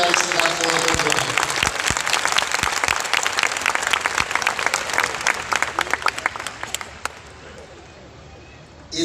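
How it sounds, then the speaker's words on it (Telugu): A large crowd bursts into dense applause for Dr. Satish's birthday at a thanksgiving celebration, loud and sustained before thinning to scattered claps near the end. "సోదర సోదరీమణులందరూ పెద్ద ఎత్తున చప్పట్లతో డాక్టర్ సతీష్ గారికి జన్మదిన శుభాకాంక్షలు తెలియజేయాల్సిందిగా కోరుకుంటున్నాను"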